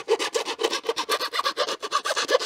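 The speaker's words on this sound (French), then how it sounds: "Là, la lime, on sent que ça gratte plus." A multitool's metal file rasps rapidly back and forth, close and continuous, with a gritty scratchy texture in quick regular strokes.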